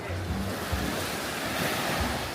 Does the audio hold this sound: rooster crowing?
no